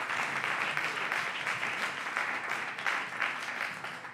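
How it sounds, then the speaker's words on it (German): A crowd at a youth speech contest gives a big round of applause, dense and sustained clapping that swells a little in places and fills the entire stretch. "kriegt der Emil Fink natürlich noch einmal einen großen Applaus"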